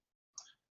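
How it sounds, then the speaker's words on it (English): A single faint, short click sounds from a computer mouse, isolated against near silence. "you might notice me clicking around and popping things"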